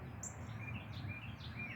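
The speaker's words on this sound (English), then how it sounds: "There's a little bitty bird." A small bird chirps outdoors near a yard with wildflowers, a few thin high tweets heard faintly over a steady low background hum.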